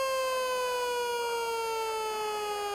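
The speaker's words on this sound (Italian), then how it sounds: "Intanto suona la sirena" A siren sounds at a horse racetrack after a race at the Cesena meeting, a long loud steady wail with a rich stack of harmonics, gliding slightly downward in pitch, alone without talk.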